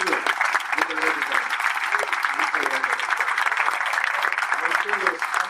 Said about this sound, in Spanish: demos un fuerte aplauso a Daniel Muñoz